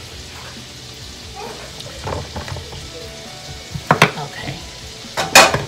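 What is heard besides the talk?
vegetables frying and sizzling in a pan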